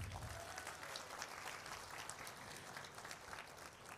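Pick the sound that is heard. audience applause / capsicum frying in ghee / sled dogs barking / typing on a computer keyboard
audience applause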